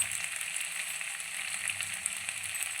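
Pepper chicken frying in a pan, a steady close sizzle with crackling and soft stirring clicks running unbroken throughout.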